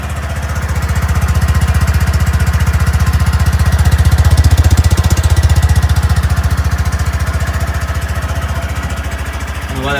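A Honda Grom motorcycle engine idles after its first spring start-up, a steady, close, loud chugging putter running evenly for the whole stretch with no voices.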